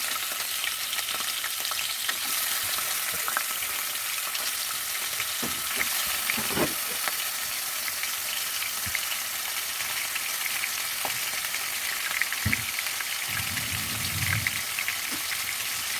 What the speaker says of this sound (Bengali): এখন তেলটা আমার গরম হয়ে গেছে আমি এখানে আজকে প্রথমে করলা ভাজি করব